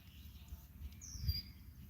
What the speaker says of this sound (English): You might be able to hear some red-winged blackbirds or other birds here.